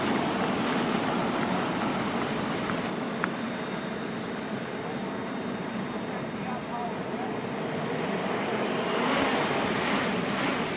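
A model SU-27 jet aircraft makes a slow descent to land at a jet event in Wangaratta, its turbine whining and rushing steadily at a moderate distance while a voice talks over it.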